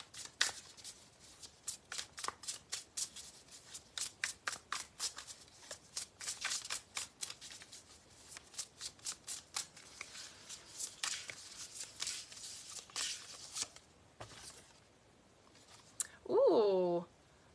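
Tarot cards are shuffled in quick, repeated riffling bursts for a clarifying draw, the crisp flutters coming in a steady run before thinning out, with a brief voice near the end.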